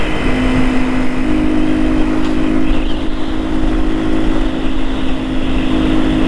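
A motorcycle engine drones steadily at close range, with a constant hum and rushing wind noise as the bike rides along a road toward Ikura Cave in Okayama, Japan.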